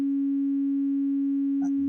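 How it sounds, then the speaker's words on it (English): A free-running tone from a CozmikC1zzl3 card in a Workshop System computer: a steady, loud electronic pitch with an even buzzy edge that holds unchanged, then a brief soft shuffle near the end. "So let's restart with it free running, getting the tone that you can hear,"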